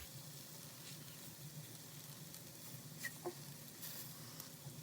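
Tofu sizzles steadily in a small pan for a teriyaki dish, a continuous close frying hiss with a couple of brief light clicks from tongs as pieces are turned.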